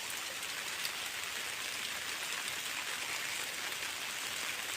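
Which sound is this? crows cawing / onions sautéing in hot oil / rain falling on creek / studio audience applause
rain falling on creek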